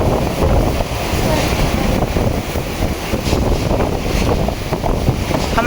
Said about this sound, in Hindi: आ रही है आपको आवाज़ तूफान की?